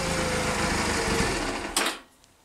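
A Honda Rebel CA 125 motorcycle engine, revving with a rough, buzzing note close by, then stalling and cutting out abruptly after about two seconds, leaving near silence.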